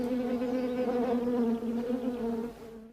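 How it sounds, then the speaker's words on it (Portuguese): Honeybees buzzing around a saucer of sugar water, a steady close drone that wavers slightly in pitch as bees move about, then fades toward the end. "as abelhas marcadas com amarelo encontram o caminho até o pires com água e açúcar"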